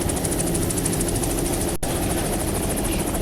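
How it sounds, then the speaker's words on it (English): Helicopter hovering over an offshore powerboat race in the Islamorada Gold Cup, with a steady loud rotor roar holding throughout, thick low-end thudding blade chop under a bright hiss, and no talk. "the Angel helicopter is in the area"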